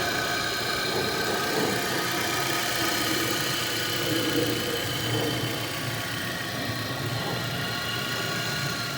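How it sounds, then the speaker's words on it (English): A Nissan Altima engine idles steadily after reassembly, a constant mid-pitched hum with a faint whine, running alone without talk for the whole stretch. "The engine seems to be running okay."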